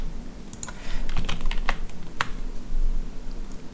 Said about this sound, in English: it would be so much better if I typed it properly